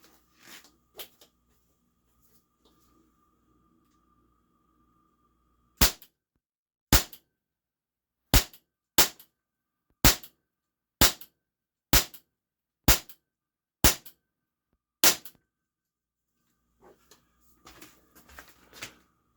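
Cybergun Baby Eagle airsoft pistol fires nine sharp, loud shots, the first pair spaced wider and the rest in a steady quick rhythm, with a low hum beforehand and faint handling noises afterward.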